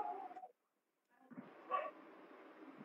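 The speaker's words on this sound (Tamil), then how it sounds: "நாய் நாய் சவுண்ட் கேக்குது." A dog barks and yips faintly in the background, a short burst early on, then a pause, then more distant yelps over a quiet indoor setting.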